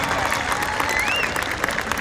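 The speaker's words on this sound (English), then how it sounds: "a round of applause for the band for playing the entrance music" Brief burst of audience applause for the band at an evening graduation ceremony in Everett Veterans Memorial Stadium, steady clapping from a crowd at moderate distance.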